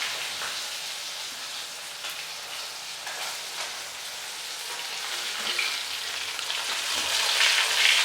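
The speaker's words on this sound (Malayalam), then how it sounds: "മീനൊക്കെ ഒന്ന് മറിച്ചിട്ടു. ഒന്ന് ആവാൻ വേണ്ടിയിട്ട് കാത്തിക്കാണ്." Thinda fish frying in a pan gives a dense, steady sizzle and crackle that runs throughout and grows a little louder toward the end, with no voices.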